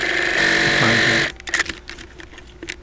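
A sewing machine stitches patchwork fabric in a short, loud whirring burst that stops abruptly, followed by light handling clicks and rustles.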